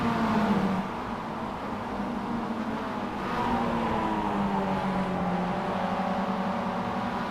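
Racing cars in an AI-driven Malaysia championship round power out of the final corner onto the main straight, engines droning and rising in pitch steadily and loudly throughout, with no talk.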